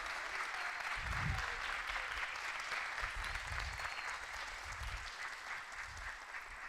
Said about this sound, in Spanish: Así que lo recibimos con un fuerte aplauso